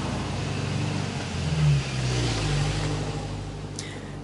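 Vehicles pass on a busy road, a steady low engine drone with one car swelling nearer and revving briefly before easing off, no talk.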